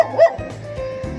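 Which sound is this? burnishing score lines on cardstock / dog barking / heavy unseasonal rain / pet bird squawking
dog barking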